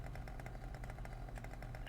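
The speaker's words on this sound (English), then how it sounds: "I'm not entirely sure that thing's fully a moped the way that it sounds" Small moped engine in the police game San Andreas First Responders, running steadily with a buzzing, rough idle-like drone; faint and continuous, no voices.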